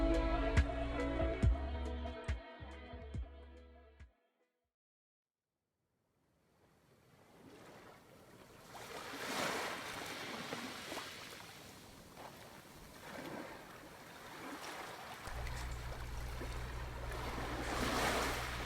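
Ocean waves wash in on a summer beach at Bar Harbor, Maine, a soft broad surf hiss that swells and fades after a stretch of music, with low wind rumble toward the end.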